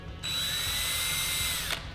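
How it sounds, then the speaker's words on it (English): A power drill fitted with a 9/64 drill bit runs steadily for about one and a half seconds while marking mounting holes, giving a continuous high-pitched whine over low rumbling background. "all we're going to be doing here is just marking the holes with the drill bit"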